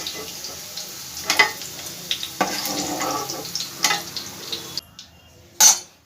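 Oil sizzles and crackles steadily in a pan while cooking a vegetarian Bengali banana flower curry (mochar ghonto), with a few utensil clinks and stirring scrapes over the hiss before it drops away near the end.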